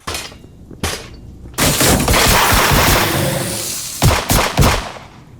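Gunfire aimed at a raptor in the game FossilFuel Raptor Isolation comes as a few sharp shots, then a long, loud blast of noise, then a quick cluster of further shots, all close and forceful.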